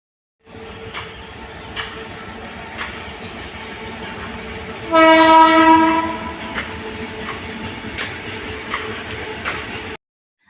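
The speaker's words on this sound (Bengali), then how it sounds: "এদিকে যে এখন কিন্তু ট্রেন যাচ্ছিলো একদম কিন্তু ট্রেন রাস্তা দিদিদের বাড়ির সঙ্গেই কিন্তু লাগানো" A train runs along a double-track rail line right beside a house, its steady rumble carrying for about ten seconds, with a loud horn blast near the middle and faint clicking of wheels.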